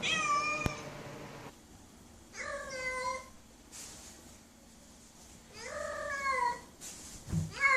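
A cat meows several times, with repeated drawn-out calls in separate bursts and quieter stretches between them. It sounds fairly close and clear, with no talk over it.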